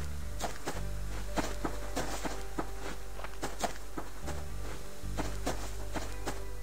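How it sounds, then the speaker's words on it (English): Player footsteps in the survival game Subsistence, a series of crisp crunching steps at an even walking pace over a loud, steady outdoor ambience with a low hum that drops out briefly. "Must have been my own footsteps scaring me."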